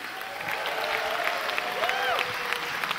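Applause from an event audience in Zagreb greeting a speaker, a steady wash of clapping at moderate distance with faint crowd murmur and a brief tonal sweep over it.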